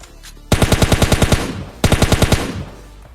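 Automatic gunfire from PUBG Lite comes in two loud rapid bursts, each about a second long, with a short pause between them.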